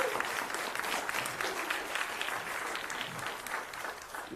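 Audience applause for a group of startup founders at an IDEAcorps event, steady dense clapping from a crowd that holds for several seconds without any talking.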